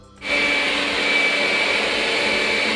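A steady, loud motorized whir of a Xiaomi Mijia MJSTP robot vacuum cleaner in medium mode, about 66 dB, starts abruptly and runs evenly, with a faint high-pitched whine on top.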